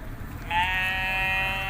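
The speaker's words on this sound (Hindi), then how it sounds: "ये देखें जी दोस्तों बकरा।" A goat bleats loudly at a busy livestock market in Lahore, Pakistan, one sustained quavering call rising over a dense background of crowd chatter and market noise.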